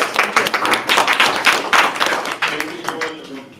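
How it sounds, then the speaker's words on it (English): An audience at a conference session on drugs and social networks applauds the panelists, with dense close clapping that swells and then tapers off, mixed with a voice. "give another round of applause to the panelists"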